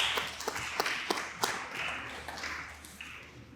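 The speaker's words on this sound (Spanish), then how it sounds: "Un fuerte aplauso, por favor" Sparse, scattered clapping from a small audience at a biodiversity round-table forum, a handful of distinct claps over a low background hum, fairly faint.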